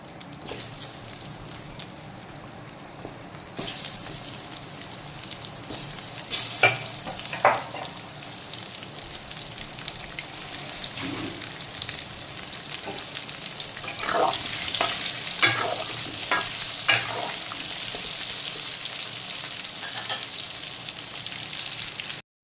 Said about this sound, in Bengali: এই একই তেলে দিয়ে দেব হলুদ মাখানো পেঁপে তবে পেঁপেগুলোকে এইভাবে ডিপ ফ্রাই করবো না পেঁপেগুলোকে হালকা করে ভেজে নেবো